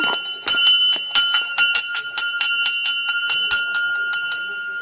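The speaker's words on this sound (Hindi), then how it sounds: "घंटी बजाओ" A bright bell rings repeatedly in quick, fairly regular strikes at a wedding, loud and close, with each chime ringing on into the next.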